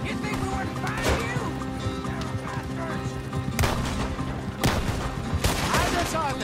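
Rapid gunfire crackles through a shootout in the video game Red Dead Redemption 2, with a dense, loud fusillade of shots and sharp bursts over a busy background mix.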